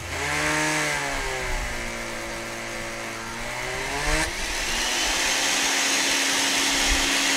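A blender whirs through chimichurri marinade for a steak, a loud steady motor whine that shifts pitch partway as the blades catch, running continuously with no talk.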